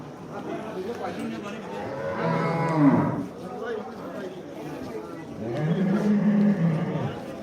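A buffalo gives two long, deep lows a few seconds apart, close by, amid the chatter and bustle of the busy Dhanaula livestock market in Punjab.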